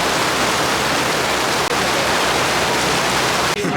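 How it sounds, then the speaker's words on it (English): Steady, loud rain falls at an outdoor autocross track, a dense hiss that carries on without a break and is briefly disturbed near the end, with no talk. "And now it started to rain again"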